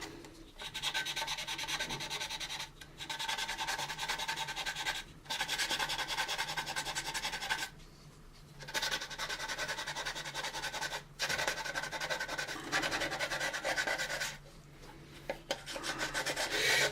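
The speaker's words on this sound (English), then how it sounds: "You don't want to cross the lines or push too hard and sand too deep and chop these grid lines right out of there." Light sanding of panel lines on a plastic AMT U.S.S. Enterprise model kit part, continuous close rasping strokes broken by a few short pauses, steady and moderately quiet, no speech.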